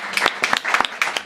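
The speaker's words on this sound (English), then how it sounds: "So let's give a warm round of applause for Bhakta." Audience applause greets a speaker at a community talk: close, crisp claps in a quick, uneven rhythm, with no voices over them.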